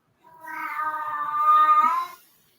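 A cat gives a single drawn-out meow, loud and close, rising slightly in the middle before it fades in a quiet room.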